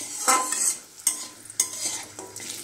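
Lentil dumplings are stirred in hot oil in a pan, with several distinct scraping strokes of a spoon over a soft sizzle, close and fairly loud.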